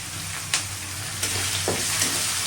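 Cardamom, cinnamon and bay leaf fry in hot oil with a steady, close hiss, broken by a few scraping stirs and brief crackles, no voices.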